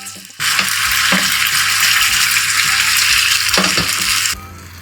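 Loud, steady sizzling bursts out as egg for tamagoyaki hits a hot pan, crackling continuously for a few seconds before cutting off abruptly.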